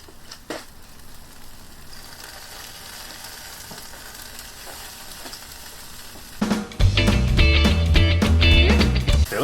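Shish kebabs flipped on a hot summer grill, a quiet stretch giving way to a loud, dense sizzle with crackling pops as the skewers hit the grate, continuing steadily to the end.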